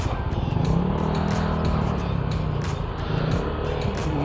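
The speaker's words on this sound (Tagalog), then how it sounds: "tignan nyo yung traffic dito sa may Dagupan" Busy street traffic in Dagupan during a motorcycle ride, with steady engine drone, revving and passing vehicles close by on a one-way road under construction, continuous and fairly loud throughout.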